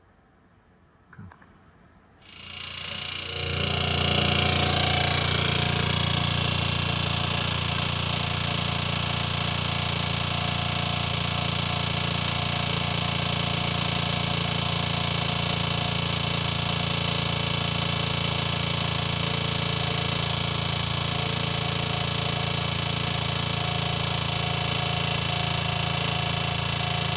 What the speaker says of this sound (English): We always try the air hammer first